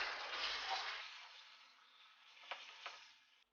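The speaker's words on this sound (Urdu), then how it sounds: "آئل کو تھوڑا گرم کر لینے کے بعد ہم اس میں شامل کریں گے آدھا کلو قیمہ، اور اب اسے فرائی کر لیں گے۔" Half a kilo of minced meat with bits of fat sizzles in hot oil in a pan, a steady faint hiss with a couple of brief clicks of stirring near the end.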